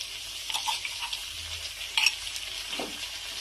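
Ginger paste dropped into a hot frying pan gives a soft, steady sizzle with faint scraping and small ticks from stirring, fairly quiet and close, with no speech.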